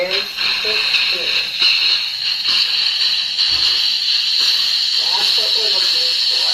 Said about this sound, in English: And there's the steam.